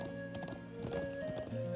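Horse hooves clip-clop at a steady riding pace in the video game Trails of Cold Steel, layered over the game's background music.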